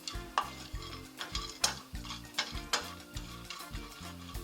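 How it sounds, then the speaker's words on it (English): Chopped almonds are dry-roasting in a pan while someone stirs them steadily, producing a quiet, close rhythm of scrapes and light rattling against a faint sizzle, with no voices. "We are going to roast now. We always keep stirring"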